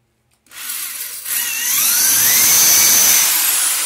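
An electric drill, run without hammer mode, bores a starter hole at a second marked spot while installing a toilet: a rising, steady high-pitched whine that starts after a short silence and holds loud to the end.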